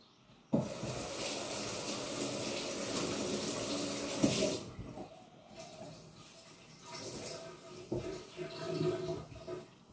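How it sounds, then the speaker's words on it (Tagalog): Hands are washed under a running tap in a home garden setting; steady, close water hiss from the faucet runs for several seconds, then eases into lighter splashing and dripping. "Hugas muna ako ng kamay."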